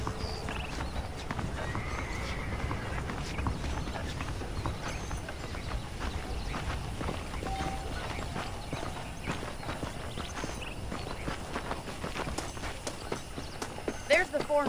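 Horse hooves clip-clopping in Red Dead Redemption, a steady walking rhythm with occasional whinnies, heard under ongoing character dialogue in the game.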